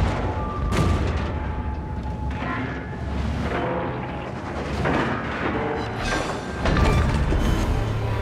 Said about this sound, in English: We've destroyed an enemy cruiser.